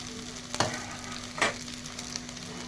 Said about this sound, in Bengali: এবার আমি জল দিয়ে দেবো, কারণ চালটা ফুটছে, চিড়বিড়ি করছে তো